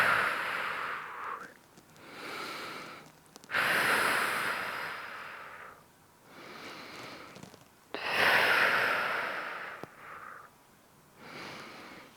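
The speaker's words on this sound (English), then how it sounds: "breathing into the top side of the rib cage" Deep, slow breathing during a stretching session, long audible inhales and exhales in a steady rhythm, close and without speech.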